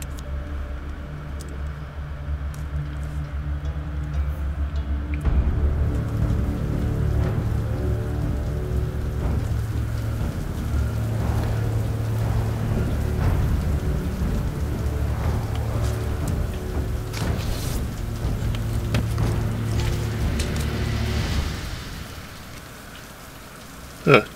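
Steady rain pours down in the video game Hand of Fate, with low rumbling thunder underneath and a sharp hit near the end.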